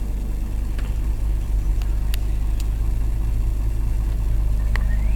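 A V10 Volkswagen Touareg sits idling after a push-button start, giving a steady, close, low engine rumble that runs smoothly throughout with a few faint clicks over it.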